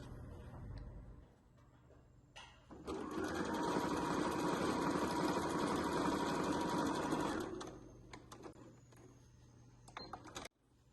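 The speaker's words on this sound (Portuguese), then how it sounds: "a gente vai na máquina aqui, ó, e passa um pezinho de máquina de costura pra fixar o nosso forrinho aqui" A sewing machine stitches the lining of a waterproof twill scissor holder. It runs in one close, steady, whirring burst of about five seconds, with quieter handling noises before and after.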